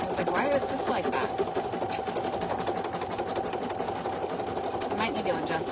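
A single needle embroidery machine stitches a design onto a premade item, its steady rapid mechanical chatter running continuously and close throughout.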